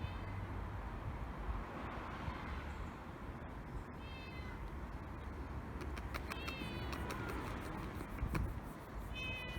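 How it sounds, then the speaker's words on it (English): A big, fat, furry Siamese-like cat meows outdoors on a driveway, a few faint, distant calls over a steady rumble of wind and passing traffic. "there's a lovely big fat cat just come down our drive. It's like a fat furry Siamese cat."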